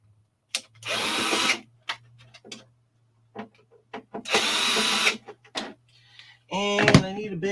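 Screws are backed out of a TRS-80 Model 4P computer case with a power driver, two separate whirring bursts of about a second each, close up, with small clicks and a voice speaking in between.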